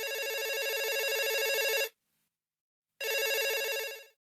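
A telephone bell ringing loudly and close, two bursts of ring separated by a second of silence, with no voices, as a teacher at a high school in 1997 receives a call.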